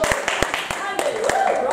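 A church congregation claps hands in a loose, irregular rhythm of sharp, close slaps, with a voice speaking over the clapping.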